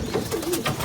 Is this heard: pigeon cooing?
yes